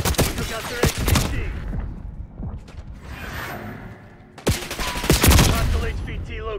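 Bursts of automatic gunfire from a Call of Duty match, dense rapid volleys near and loud, a lull in the middle, then another heavy fusillade with mechanical clatter and whooshes.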